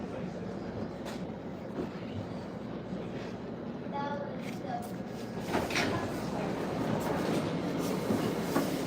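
A metro train rolls into a station, a steady low rumble with faint clacking and a brief squeal midway, swelling louder near the end.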